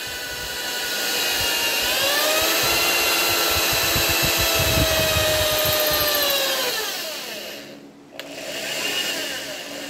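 A drill or auger bores a hole in a part for a homemade TV antenna, a steady close whine with pitch shifts as the motor slows and speeds, briefly cutting out near the end before resuming.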